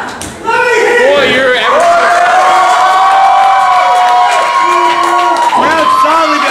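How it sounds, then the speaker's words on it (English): A wrestling-show crowd roars and chants loudly and continuously, voices rising in sustained cheering for wrestler Corvis, filling the whole span. "Crowd solidly behind Corvis."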